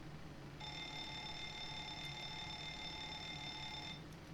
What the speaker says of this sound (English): There we get the alarms.